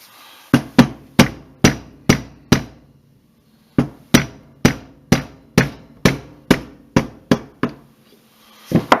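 Sharp repeated rubber hammer strikes driving a pin out of a Hi-Point pistol, six blows, a short pause, then about ten more in a steady rhythm, close and loud with no talking.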